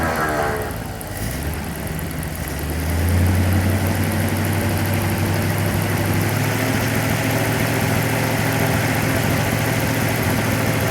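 A 1937 Ford engine runs steadily with a broad, rough mechanical drone, then rises to a louder, deeper revving roar about three seconds in and holds there.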